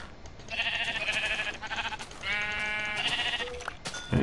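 A sheep in Minecraft bleats several times in wavering, nasal calls, close and clear over a faint background hiss.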